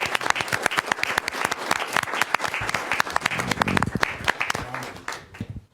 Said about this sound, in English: So I think everybody should give John Gunby a round of applause